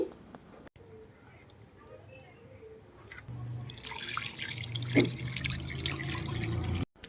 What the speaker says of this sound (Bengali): সেই প্লেটটাকে এই তো পানি দিয়ে ধুয়ে